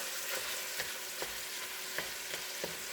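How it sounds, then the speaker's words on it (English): Onions, garlic and plant-based sausage frying in a pot for vegan zuppa toscana: a steady, close broadband sizzle with a few soft stirring scrapes spaced through it. "add our onions and garlic in here"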